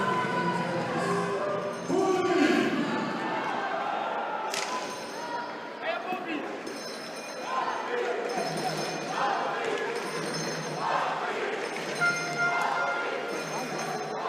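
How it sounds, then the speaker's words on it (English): Spectators cheer and urge on Switzerland during a men's ball hockey quarterfinal at the World Ball Hockey Championship against Greece, a steady crowd roar with shouts and the clatter of play on the flooring beneath it. "Crowd trying to urge Switzerland on as the ball is sent down on the flooring."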